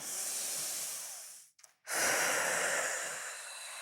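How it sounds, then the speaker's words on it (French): A single slow, deep breath drawn in and let out during a guided breathing exercise, a long airy hiss that pauses briefly in the middle before a fuller exhale. "Allez, on respire une fois."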